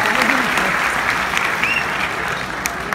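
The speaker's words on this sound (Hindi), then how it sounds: "वाह, जोरदार तालियां" An audience at a Hindi-Urdu poetry recital applauds loudly and steadily, a close, full wash of clapping that holds throughout with a faint voice beneath it.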